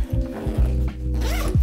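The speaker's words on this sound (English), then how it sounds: "There's a zipper right here, so you can actually unzip" A zipper on a budget DSLR camera backpack is pulled open in several quick rasping strokes, close and fairly loud, with a brief pause partway through and no talking.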